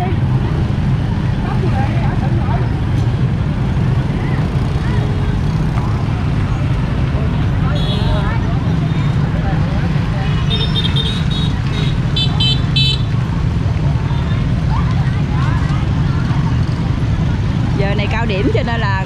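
Peak-hour traffic jam on the road by bridge 13 in front of Vinh Hung Trung during a crowded festival, with a loud, continuous rumble of engines, scattered horn toots and voices mixed into the din.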